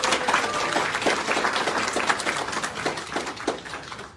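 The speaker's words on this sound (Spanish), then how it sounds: "Un aplauso." Applause follows a baptism, a small group clapping steadily at moderate distance for several seconds, fairly soft, with no talk over it.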